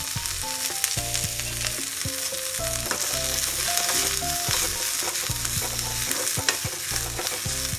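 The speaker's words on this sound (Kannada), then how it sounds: "ಇವಾಗ ಈರುಳ್ಳಿನ ಹಾಕ್ಕೊಳ್ತಾ ಇದ್ದೀನಿ ಇದನ್ನು ಚೆನ್ನಾಗಿ ಹುರ್ಕೋಬೇಕು" Onions and garlic fry in oil for holige sambar, a steady crackling sizzle with frequent scraping stirs of a spoon against the pan throughout, close and continuous.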